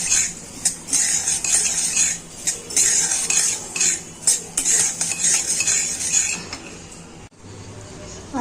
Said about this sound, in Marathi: हे तीन पण मी एकत्र असे रोस्ट करून घेणार आहे